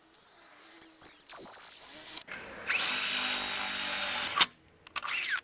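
Power drill boring a hole through metal to mount a Rhino-Rack Pioneer 6 platform, with a short burst followed by a sustained high whine lasting a few seconds, loud and close, then stopping abruptly.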